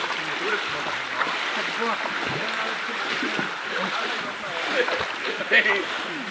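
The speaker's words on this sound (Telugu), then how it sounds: "వాటర్ వచ్చేసింది రాళ్ళ కిందకి వెళ్ళిపోతున్నాయి" A forest waterfall at Penchalakona sends water rushing down and under rocks in a steady, broad hiss, close and continuous, with people talking over it.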